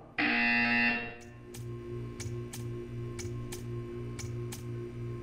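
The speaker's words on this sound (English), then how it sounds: "When you hear the buzzer, stare at the art." A buzzer in the video game Portal 2: a loud, harsh electronic tone for about a second, then a regular series of short ticking pulses over a low steady hum.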